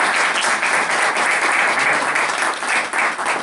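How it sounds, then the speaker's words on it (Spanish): An audience applauds its guests at the close of a talk, a full, continuous round of clapping from many hands that stays loud and even throughout. "Un aplauso para nuestros invitados de hoy."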